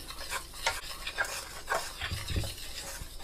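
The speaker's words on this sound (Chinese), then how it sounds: "然后用筷子把它稍微搅拌一下" Chopsticks stir all-purpose flour and yeast in a bowl, making quick scraping and light tapping strokes in an irregular rhythm at close range.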